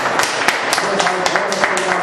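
A church congregation claps in a quick, steady rhythm, sharp hand claps repeating about four times a second over a background of voices.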